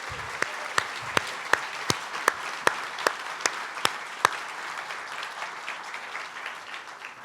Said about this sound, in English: everybody give Laurie a round of applause